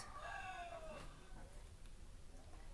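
A hen or rooster heard in a short burst of clucking and crowing calls near the start, then fading into quieter background noise.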